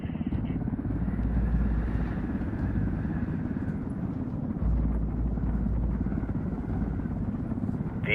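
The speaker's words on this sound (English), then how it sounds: "Frontier Tower, helicopter 4-5 Romeo Whiskey." A helicopter flying in a tactical shooter video game set in Bolivia, a steady low rotor drone with engine whine held at constant loudness throughout, no speech over it.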